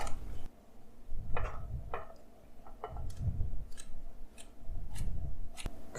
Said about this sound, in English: So I'm going to cut this carrot up.